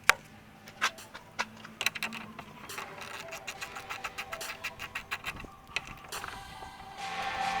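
A 10mm wrench takes screws out of an R6 motorcycle block-off plate, making a run of close ratcheting clicks and metallic taps in irregular bursts.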